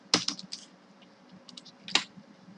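Several key presses on a computer keyboard while JavaScript form-validation code is typed: a cluster of quick clicks at the start, a short pause, then a single sharper keystroke, close and fairly quiet.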